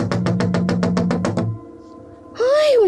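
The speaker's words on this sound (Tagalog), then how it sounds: "bigla siyang binulabog ng isang malakas na pagkatok sa kanyang pintuan" Loud, rapid pounding on a door, about ten evenly spaced heavy knocks in quick succession. A sustained tone follows, then a voice cries out.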